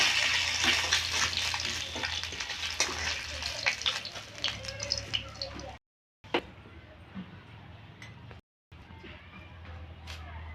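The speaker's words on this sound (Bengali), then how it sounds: "মাছটাকে হালকা করে বেজে নেবে" Lati fish lightly frying in a pan, giving a steady close sizzle and spatter with brief silent breaks between bursts.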